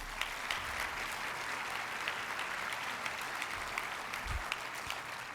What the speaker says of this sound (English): a round of applause for Elder Casey.